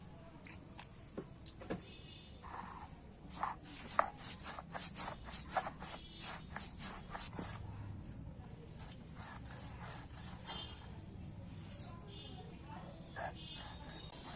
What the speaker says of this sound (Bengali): এবার আমি পোস্তটা বেটে নিচ্ছি